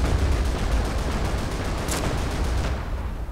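Rapid bursts of gunfire from the World War II strategy game Company of Heroes, a dense crackling volley that fades toward the end, with no talk over it.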